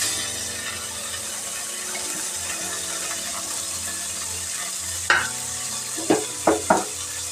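Paneer sizzles in butter in a pan, a steady close crackle, followed late by several sharp scraping or clinking knocks of a utensil against the pan.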